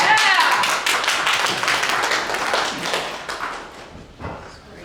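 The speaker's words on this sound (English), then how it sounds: "You can clap." Brief audience clapping at a coastal restoration panel session, a burst of many hands that fades out over a few seconds with a few stray claps at the end.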